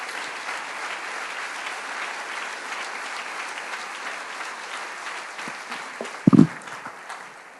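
A church congregation claps loudly and continuously in praise, a broad wash of many hands holding steady, with a single sharp thump near the end before the clapping thins out.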